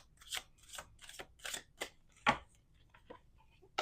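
Playing cards being shuffled up close: a quick series of crisp, papery riffling bursts, fairly quiet, with short pauses between them.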